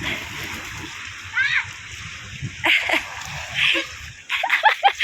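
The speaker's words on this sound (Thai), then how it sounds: "ลงทะเลเล่นน้ำครั้งแรกของเด็กๆเลยนะคะ" Children splash in cold sea water in Turkey during chilly winter weather, with bursts of splashing and sloshing close by, broken by excited kids' shouts and an adult's voice.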